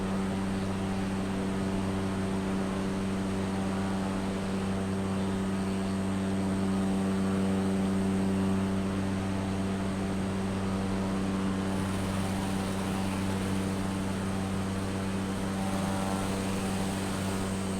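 Steady, loud droning hum of a small propeller airplane's engine in Microsoft Flight Simulator, flying over northern Scotland near Wick and the Orkney Islands, continuous and unchanging throughout with no talk.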